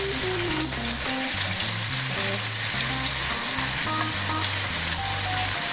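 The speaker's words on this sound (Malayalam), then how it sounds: "നമുക്കിതൊന്ന് വറുത്ത് നോക്കാം" Leftover raw jackfruit kebab mix with onions sizzles steadily in hot oil, a loud continuous frying crackle with a faint low hum underneath, no voices.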